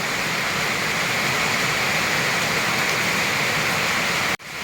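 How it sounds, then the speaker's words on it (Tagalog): Heavy rain pouring down in a loud, unbroken roar close by, steady throughout until an abrupt cut just before the end. "kuha tayo ng napakalakas ng ulan mga kapangit"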